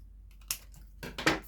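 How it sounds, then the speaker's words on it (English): Paper being punched out with a craft punch and then cut in half for a handmade gift box, giving a few short, close, crisp clicks and snips with quiet gaps between them. "Punch one of these out and then cut it in half"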